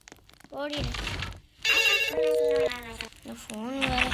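In the video game Bake or Die, a phone gives several bursts of electronic ringing, loud and close, with a voice talking over them.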